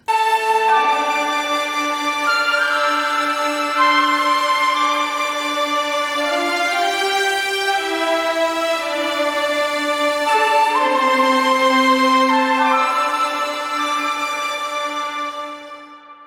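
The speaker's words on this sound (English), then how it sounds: "violin 2 is doing the same thing an octave lower" Two violin parts carry a Witcher 3 style theme an octave apart, bowed sustained notes moving together in a smooth, continuous line, clear and alone before fading out at the end.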